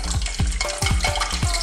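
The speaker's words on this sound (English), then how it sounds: "We will fry this for about 5 minutes" Chicken wings sizzle and crackle while deep frying in hot oil, with a few sharp knocks of a utensil at irregular intervals.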